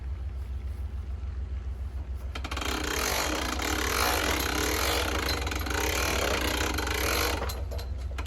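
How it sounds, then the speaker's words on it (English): A sawmill's ratcheting vertical adjustment mechanism clicks in a rapid, continuous rattling run over a steady low mechanical hum. The clicking starts partway through and stays fairly close and prominent. "You get your vertical adjustment with these ratcheting mechanisms, and you can just go up by about a 1/16 of an inch per click."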